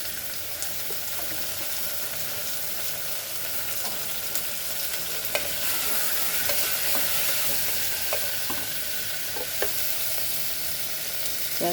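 Half a teaspoon of asafoetida (hing) dropped into hot oil for drumstick potato sambar crackles in a steady, moderate sizzle, with occasional sharp ticks and pops scattered across it and no speech.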